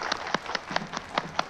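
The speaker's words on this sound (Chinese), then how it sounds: "来，让我们有掌声欢迎他。" Scattered, sparse clapping from a small audience welcoming Liu Xinghe, an environmental figure from Jingzhou, onto a stage: about seven sharp, evenly spaced claps, fairly close and moderately loud, with no voices.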